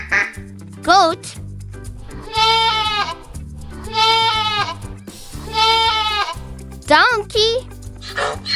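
A goat bleats three times, each call a long quavering cry, loud and close, over a steady backing music loop with short swooping sounds before and after.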